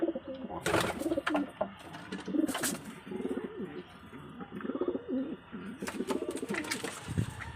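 Pigeons coo in soft, repeated rolling phrases that overlap throughout, close by and fairly steady, with some faint background murmur.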